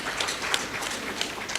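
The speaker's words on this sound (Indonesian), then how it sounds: "Tepuk tangan untuk Berau semua." Audience at a university launch ceremony in Berau claps briefly, a dense patter of hands at moderate loudness with a few sharper claps standing out.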